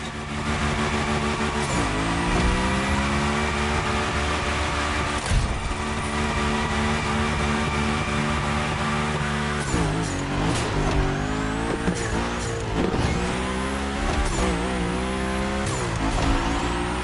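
A car drifts in the Motorfest racing game, its engine revving and shifting pitch while tires squeal through long slides, loud and continuous with repeated surges of acceleration.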